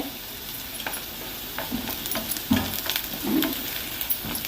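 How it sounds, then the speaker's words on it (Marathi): Curry leaves crackle and sizzle in hot oil over softened onions in a pan, with a steady fry hiss and a few louder pops and stirring scrapes, close and alone, no voices. "आता कढीपत्ता घालून घेते"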